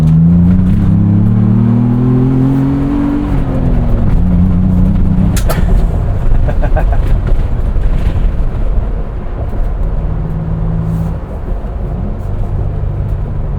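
A 2025 Ford Bronco Big Bend Sasquatch with a 7-speed manual gearbox revs hard through a downshift in sport mode, its engine note rising and falling with a steady, loud, close drone throughout.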